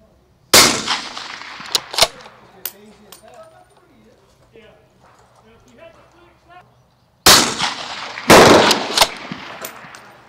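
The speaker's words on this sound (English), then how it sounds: "There's a couple of pretty quick shots there for you to show it is on at 200" Rifle shots at an outdoor shooting range during a long-range ballistics session, two loud sharp cracks in quick succession at the start and two more near the end, with someone talking in between.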